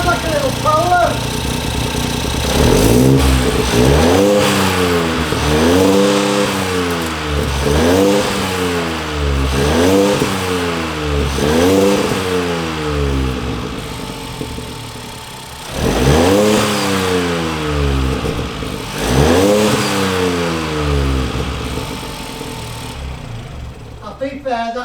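A Ford Fiesta EcoBoost engine, running without coolant, revving repeatedly in rhythmic blips that rise and fall over a steady idle, close and loud, with a pause and a later set of revs and people talking now and then.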